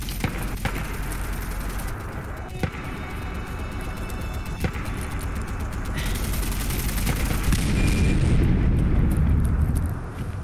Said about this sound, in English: automatic explosive turrets.